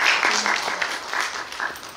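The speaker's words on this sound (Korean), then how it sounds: "박수로 맞아주세요" Audience applause welcomes a film director and actors onto the stage at a cinema talk event, moderately loud clapping throughout, with a voice faintly mixed in.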